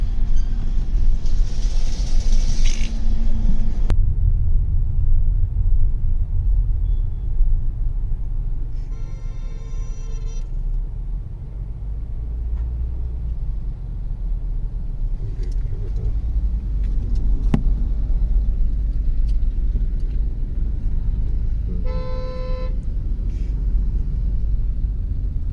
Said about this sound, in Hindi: इस वजह से यहाँ रोड पे ट्रैफिक हो रखा है।